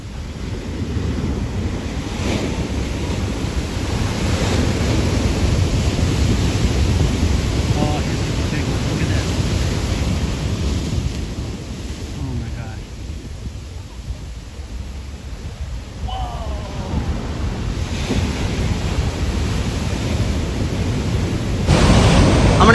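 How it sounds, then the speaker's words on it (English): Ocean surf rolling in along the shore beside an anchored sailboat, a loud continuous roar of breaking waves mixed with heavy wind buffeting the microphone, with no pauses between swells. "These waves are absolutely unbelievable today."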